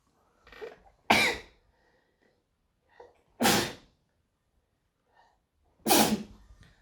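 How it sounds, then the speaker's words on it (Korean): A lecturer in a quiet room coughs three separate times, each a sharp, close burst with a short breathy lead-in, spaced a couple of seconds apart. "기침이 나오네."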